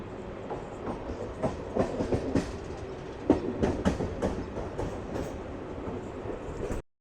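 A MEMU passenger train pulls slowly out of a station early in the morning, rolling steadily with repeated clickety-clack wheel beats over a continuous rumble, heard close from on board.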